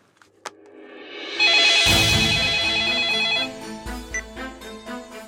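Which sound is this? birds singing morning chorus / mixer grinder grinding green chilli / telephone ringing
telephone ringing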